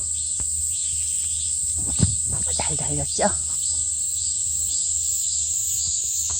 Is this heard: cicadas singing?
yes